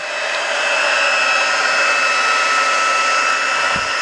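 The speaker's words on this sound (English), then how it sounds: "You want to get your embossing tool nice and hot for vellum so you don't burn it." A handheld embossing heat tool blows a loud, steady, unbroken whoosh close by while it heats vellum for card making.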